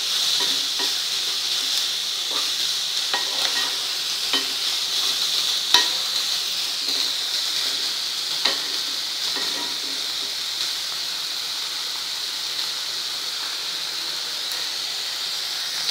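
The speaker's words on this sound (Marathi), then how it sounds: "कांदा परतावा लागणार आहे" Onion sautéing in hot oil in a pan, a continuous close sizzle with occasional scraping stirs over about sixteen seconds and no voices.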